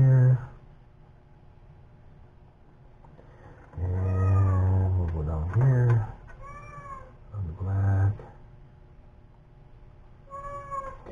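A cat meows several times in a workshop where a lathe power feed control is being wired, loud drawn-out cries close by, with someone talking over and between them.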